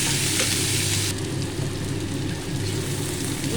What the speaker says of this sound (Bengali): পেঁয়াজটাও ভালো করে ভেজে নেব, কিছুক্ষণ ভাজবো